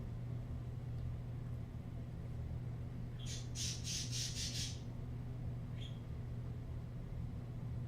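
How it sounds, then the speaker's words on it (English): Pet birds squawk in one brief rapid burst of five or six shrill cries and then a single faint chirp, heard indoors over a steady low rumble. "It's my daughter's birds"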